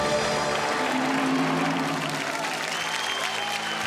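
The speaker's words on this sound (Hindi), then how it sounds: "सही जवाब बा। ताली।" Steady, dense applause from a game show studio audience filling the whole stretch, loud and continuous without letting up.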